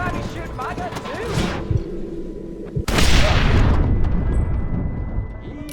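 Gunfire in the Red Dead Redemption video game: a sharp blast near the three-second mark followed by a dense, sustained burst of loud crackling shots, heard under spoken dialogue.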